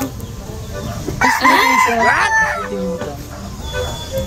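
A rooster crows once, loud and near, over a noisy background with clucking fowl.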